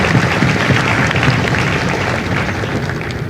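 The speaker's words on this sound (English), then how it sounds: "would you join me in a round of applause for the families of God's Company?" Audience applause for the families at a Marine Corps recruit graduation ceremony in San Diego, a dense, sustained wash of clapping from a large crowd that holds steady and then tapers slightly near the end.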